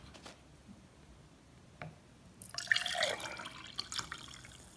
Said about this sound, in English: After sieving it out, you pour it back inside your cup.